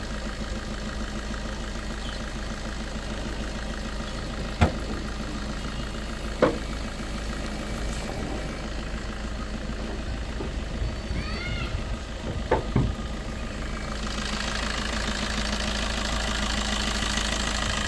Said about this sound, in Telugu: అంత పర్ఫెక్ట్గా ఉంది ఇంజన్ బీటింగ్.